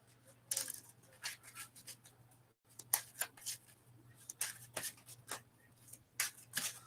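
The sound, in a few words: shuffling a deck of cards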